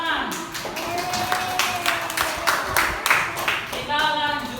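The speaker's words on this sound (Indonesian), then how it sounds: "Oke, beri tepuk tangan." A primary school class claps together in the classroom, with rhythmic, somewhat uneven hand claps and children's voices and chatter running over and through the clapping.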